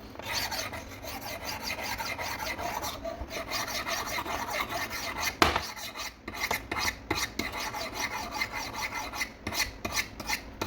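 A knife blade rasps in repeated alternating strokes against the medium stones of a Spyderco Sharpmaker, steady and close with brief pauses between passes, no talking.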